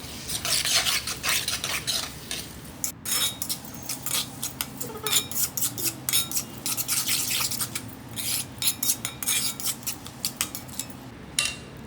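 Onions with ginger and garlic sauté in a pan for chicken sukka, with repeated scraping and stirring strokes of a metal spoon over a soft, steady sizzle and no talking.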